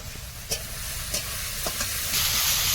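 Tomato masala with cumin, coriander paste and Kashmiri chilli powder frying in a pan, a steady loud sizzle with a few scraping stirs of the spoon.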